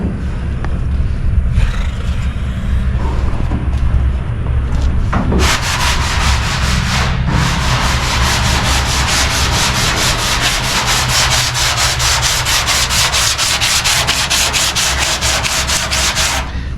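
Sanding of epoxy primer on the body of a 1962 Chevrolet Impala lowrider, a loud close rasping rub that turns into fast rhythmic back-and-forth strokes over a low rumbling background.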